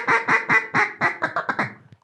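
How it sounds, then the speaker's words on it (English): Jargon Game Calls Chit Chat duck call blown in a rapid sequence of about nine raspy quacks, loud and close, the notes quickening and fading toward the end. "That's one of the duck calls that you designed. That's called the chit chat"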